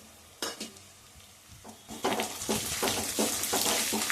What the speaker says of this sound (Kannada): ಸೇರಿಸ್ಕೊಂಡು ಈರುಳ್ಳಿನ ಚೆನ್ನಾಗಿ ಫ್ರೈ ಮಾಡ್ಕೊಳ್ಳಿ